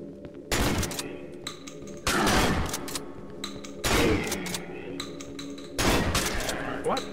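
Shotgun blasts in the horror game Cry of Fear, four heavy, booming shots spaced a second or two apart, each trailing into a short echo, with a voice talking in between.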